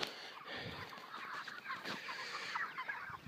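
Broiler chickens cluck in farm pens holding about a hundred birds each, a busy overlapping chorus of calls and soft squawks that carries on steadily at moderate loudness with no talking.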